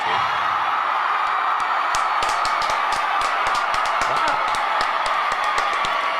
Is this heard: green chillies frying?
no